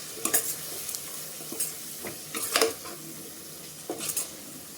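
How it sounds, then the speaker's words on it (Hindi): Red chili powder, kasuri methi and masala stirred and roasted in a pan for a creamy restaurant-style mushroom gravy: intermittent scraping spoon strokes against the pan over a faint, steady sizzle, with no talking. "इन सभी को मिक्स करते हुए चलाएंगे और इनको 1 से 2 मिनट भून लेंगे"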